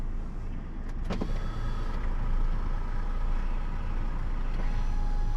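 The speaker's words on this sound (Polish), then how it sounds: "A ten tu co, silnik ma odpalony teraz?" A heavy truck engine idles with a steady, low rumble, close and continuous, with a couple of faint clicks early on; a parked German lorry.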